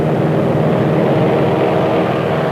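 A B-29 Superfortress bomber with its combat gear stripped takes off on a long run, loud steady droning roar of piston engines and propellers, continuous and close.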